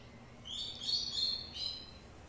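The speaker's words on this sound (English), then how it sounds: "My bird's screeching really loud" A pet bird gives a few bright, high chirps in quick succession during a tabletop fantasy role-playing game session, moderately close but fairly quiet, with no one talking over it.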